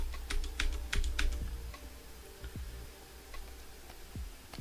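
Fingers type on a computer keyboard in quick irregular bursts of sharp clicks, close and fairly quiet, with short pauses between keystroke runs and a low steady hum underneath.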